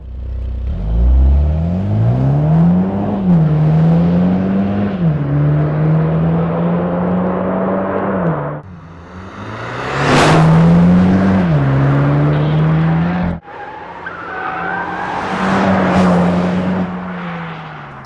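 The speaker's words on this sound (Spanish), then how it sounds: "un sistema de escape de doble salida con un desarrollo del sonido más deportivo." A Mini John Cooper Works GP with dual-outlet exhaust revs and accelerates through several gear changes, the engine note rising and dipping repeatedly, loud and close, with sharp bursts of noise between pulls.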